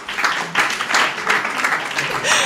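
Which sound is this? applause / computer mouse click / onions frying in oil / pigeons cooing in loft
applause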